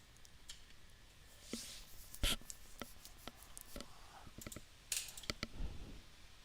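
Computer mouse clicks, a scattered series of small, sharp, close taps spread unevenly over a quiet room background.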